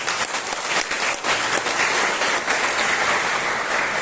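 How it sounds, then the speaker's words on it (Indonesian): Loud applause from a church congregation at an anniversary celebration, many hands clapping in a thick, sustained wash with a few sharper claps standing out early. "Tepuk tangan untuk itu"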